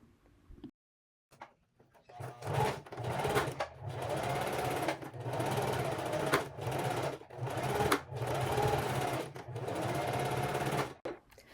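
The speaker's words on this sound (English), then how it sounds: "go ahead and connect the 2 edges of the elastic using a straight stitch." Sewing machine running a straight stitch to join the two edges of elastic for linen pants, steady mechanical whirring in repeated bursts with short pauses between, close and fairly loud, no talking.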